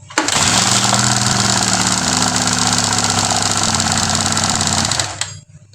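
A Honda Sonic motorcycle engine with a suspected oil-starved camshaft starts and runs steadily at a loud, close idle for about five seconds, then cuts off abruptly.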